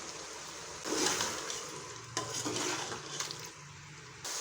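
Tomatoes fry in hot oil for a Punjabi-style white chickpea shorba, giving a steady close sizzle with stirring scrapes and occasional utensil clinks against the pan.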